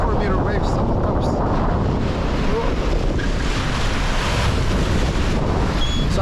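Big 3–4 metre sea waves and strong wind around a sailboat offshore near the Netherlands coast in 40 metres of water, a loud continuous roar of surf and gusting wind buffeting the microphone.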